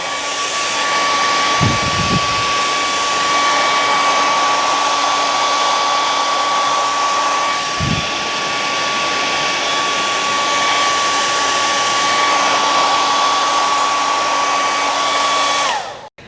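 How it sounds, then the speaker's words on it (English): A hair dryer blows steadily at close range, a loud constant whir with a high tonal whine that holds for about sixteen seconds and then cuts off abruptly; a couple of brief low thumps show through, but no one speaks. "we'll huff and we'll puff and we'll turn on a"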